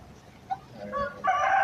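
Turkeys in a breeding-stock coop on a large farm call out in a short burst of gobbling, starting faint then swelling into a louder sustained call near the end, with no talking.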